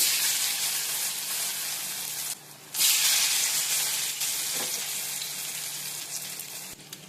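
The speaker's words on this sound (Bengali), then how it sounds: "কুট করে একটা একটা করে সব কিছু ভেজে দেব" Ridge gourd fritters frying in hot oil, a loud continuous bright sizzle with a brief dip and a sudden surge as more batter goes in, steady crackling throughout, no voices.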